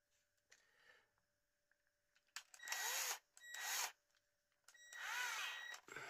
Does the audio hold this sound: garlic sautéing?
no